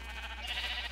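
A Minecraft sheep gives a single short bleat, clear and close, in a sheep-farming game world with no talk.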